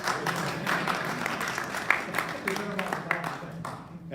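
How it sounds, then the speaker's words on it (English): Audience applause at a Guilderland community update meeting: a steady, moderately loud wash of clapping from a seated crowd, with murmured voices mixed in. "applause."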